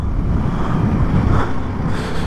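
A 2024 Yamaha MT-07 motorcycle engine rumbling low and steady as the clutch is let out, heavy and close with buffeting wind noise throughout, no voices.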